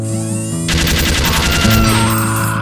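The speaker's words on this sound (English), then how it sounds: "use more gun. Like this heavy caliber tripod mounted little old number designed" A heavy caliber tripod-mounted machine gun fires in a video game, a loud rapid burst of evenly spaced shots starting after a brief spin-up and continuing to the end.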